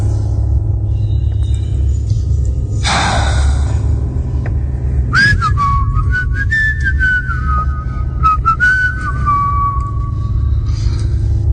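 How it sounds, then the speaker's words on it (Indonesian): Someone whistles a wavering, sliding tune over a steady low rumble, the notes ringing with a hollow, reverberant echo in an empty office room at night. "Sesekali aku bersiul mengusir rasa sepi. Suara siulanku itu bergema di ruangan yang sudah kosong itu."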